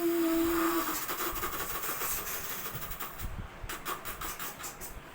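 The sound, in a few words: voice imitating a train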